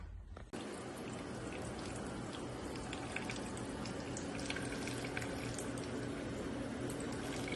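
Blue corn moonshine distillate running from a still into a bucket, a continuous close trickle and splash of liquid that holds steady throughout with no talk.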